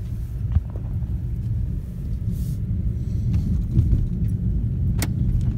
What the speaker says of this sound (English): now I'm just driving over here, checking the place out a little bit more